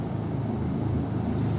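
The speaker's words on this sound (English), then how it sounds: "That sound is definitely like an engine sound or something." A steady, low engine drone hums continuously at constant loudness, with no voices over it.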